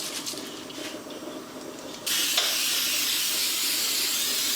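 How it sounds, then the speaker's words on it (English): Cooking spray hisses from a can onto a pan, a loud, steady, close spray that starts abruptly and continues unbroken after a quieter lead-in. "add cooking spray"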